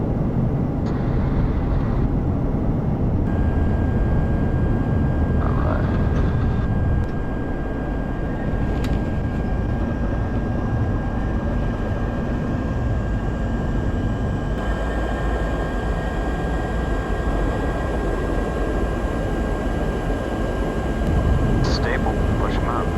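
Airliner jet engines spool up to takeoff power, a broad steady roar lasting throughout, with pilots talking over it.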